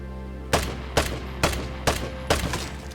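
Five quick gunshots in the survival shooter game Vigor, fired about half a second apart over a steady background hum, each a punchy crack with a brief echo, no voices.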